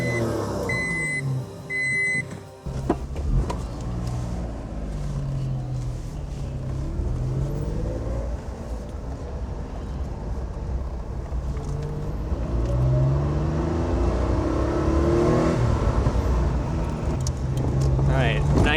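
A 1994 Honda Beat starts up after a few beeps, and its small engine drones and rumbles steadily as the open-top car pulls away and drives. The engine note rises and falls with gear changes, with some talking over it.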